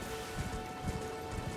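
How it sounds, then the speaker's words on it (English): Steady rain falls across an in-game landscape in Elden Ring on an overcast morning, a continuous even hiss with soft low rumbles underneath, heard alone without talk. "Well, it is raining, so it is understandable."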